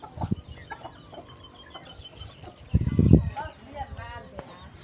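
Chickens cluck near a calf on a cattle farm while it waits for feed, soft scattered clucks with a louder burst in the middle, with a voice talking intermittently.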